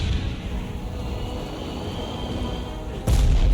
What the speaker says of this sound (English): The most terrifying sound I've ever heard is an 88 hitting the ridge and ricocheting.